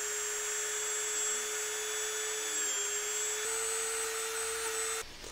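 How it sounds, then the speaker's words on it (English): A rotary tool fitted with a ceramic cutting wheel, used on a foam knight helmet, runs as a steady high-pitched whine at constant speed, close and alone, cutting off abruptly near the end. "Got my rotary tool."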